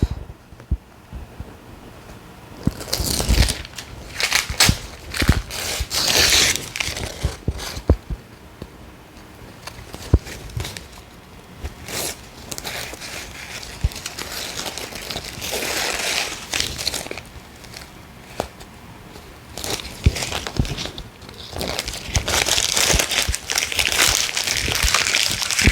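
Backing paper being peeled off fused coat fabric and interfacing, giving a long stretch of crinkling, tearing rustle and crumpling paper, close and uneven, with louder rips in bursts and no talk.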